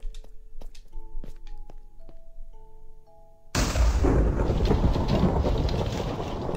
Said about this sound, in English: Is that thunder outside?